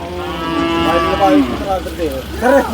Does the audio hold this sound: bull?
yes